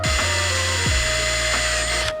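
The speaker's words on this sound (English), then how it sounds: "we're gonna be drilling and then rib nutting into the actual roof rail" A power drill whines steadily into the metal roof rail of a 2025 Toyota 4Runner, pausing briefly as it spins down and restarts, loud and close, with a high grinding tone.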